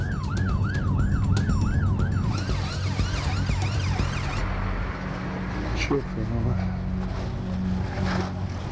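An ambulance siren wails in rapid rising-and-falling sweeps at a road crash scene, loud at first and then fading as traffic noise continues underneath.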